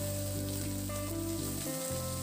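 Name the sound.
garlic and chopped onion frying in hot oil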